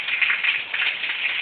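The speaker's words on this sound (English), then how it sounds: "Rain like hell" Steady rain falling in the early morning, a dense, even hiss of drops on surfaces with no gaps, close and moderately loud, with no voices.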